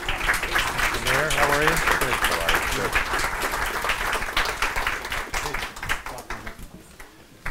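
Audience applause at a university alumni panel on politics and the economy, dense clapping across a crowded room while someone speaks over it, fading toward the end.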